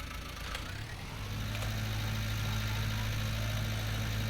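An underpowered tractor engine in the Farming Simulator 19 game runs at a steady low drone, rising slightly in level after the first second and holding a constant hum, with no talk.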